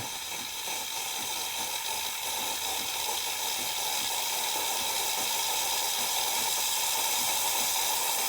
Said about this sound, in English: After pressing the steam button, the steam knob can be opened almost at once, and steam comes out.